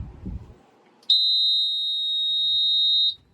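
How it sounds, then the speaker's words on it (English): A single long electronic beep from a Suzuki Marine keyless start system rings out clearly for about two seconds after a brief low rumble, then cuts off. "Going to beep at us. There it goes."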